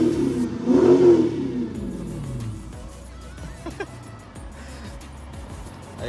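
A Dodge Charger Daytona Scat Pack V8 revs loudly up close with one strong burst, then settles into a deep idle rumble, with someone talking faintly over it.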